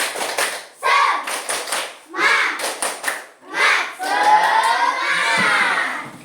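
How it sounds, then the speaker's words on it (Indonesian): A standing group of teachers at a computational-thinking training session performs a rhythmic spirit clap, bursts of patterned claps broken by pauses, ending in loud shouting and cheering from the crowd. "Kita tepuk semangat dulu sebelum kita lanjut ke sesi berikutnya."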